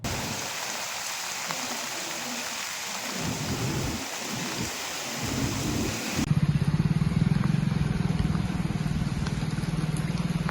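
Heavy monsoon rain with rumbling thunder across Nagarkurnool district, a steady loud downpour that grows denser and heavier halfway through, with no voices.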